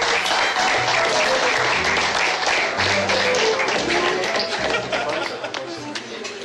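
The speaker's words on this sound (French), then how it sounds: "Applaudissez-les." Enthusiastic applause and cheering fill the Yves du Manoir stadium in Montpellier for the Montpellier rugby team, dense and loud, with crowd voices and chatter mixed in before the clapping thins slightly at the end.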